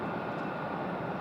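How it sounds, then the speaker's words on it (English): Aeromexico Connect Embraer E190 jet departing, a brief, steady broadband engine roar at moderate level, with no voices. "Next departure is going to be Aero Mexico Connect. This one headed back to Mexico City"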